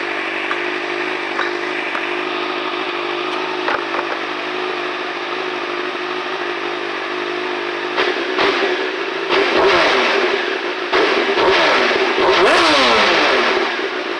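A Honda CBR 929RR 1000cc liter-bike engine idles steadily up close, then gets several sharp revs in quick succession toward the end, each throttle blip rising and falling.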